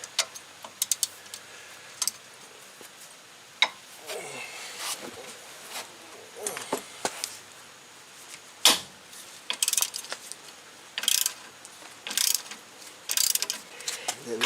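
A ratchet wrench works the brake caliper bolts on a 2008 Suzuki Forenza. Scattered short clicks and metallic clanks come in uneven bursts, close by in a quiet garage.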